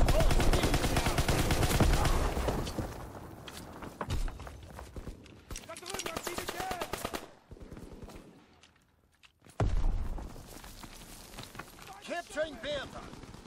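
Machine-gun bursts and rifle shots in a WW2 video game battle, loud rattling volleys at the start and intermittent shots later, mixed with shouted voices and a brief quiet gap.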